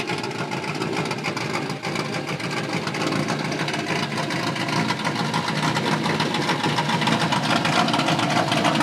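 A Chevrolet Silverado truck engine with an X-pipe exhaust and true duals runs at a steady, loud, dense roar, holding constant throughout without pauses or voices.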